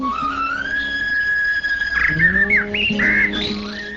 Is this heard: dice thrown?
no